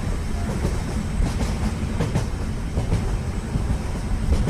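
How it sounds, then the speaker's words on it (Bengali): A cartoon train runs along the rails with a steady, rumbling roar and a faint rhythmic clatter of wheels. It stays continuous and fairly loud throughout, with no speech. "আমরা দুপুর 12টা ট্রেনে উঠেছিলাম, আর এখন সময় প্রায় 4:30।"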